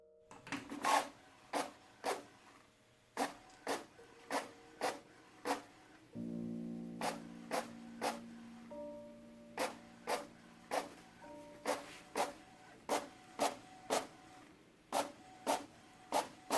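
An inkjet printer runs off comic pages, its print head sweeping back and forth in about twenty evenly spaced clicking, rasping passes, with a steady low mechanical hum underneath for part of the run.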